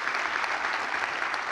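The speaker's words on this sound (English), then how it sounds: "Let's give them a round of applause" Applause from a keynote audience at a marketing conference, steady dense clapping from a large crowd, heard briefly and alone.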